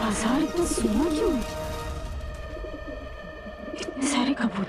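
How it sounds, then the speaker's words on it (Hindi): A crowd of pigeons cooing in an empty market, a continuous warbling coo over a dense, noisy backdrop with a steady hum, rising again toward the end. "इतने सारे कबूतर"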